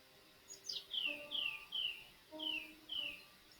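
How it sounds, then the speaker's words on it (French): A bird sings a string of bright, descending whistled chirps, about six notes in two short phrases, fairly faint over a quiet outdoor background. "Cela peut être des oiseaux qui chantent"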